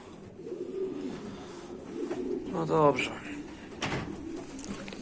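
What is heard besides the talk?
pigeons cooing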